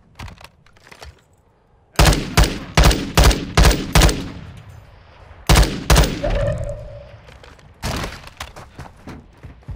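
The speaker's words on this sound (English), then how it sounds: "We're being sniped at." Heavy gunfire in a multiplayer shooter game: a series of loud, evenly spaced single shots in two clusters, then a later burst, sharp and close with short echoing tails.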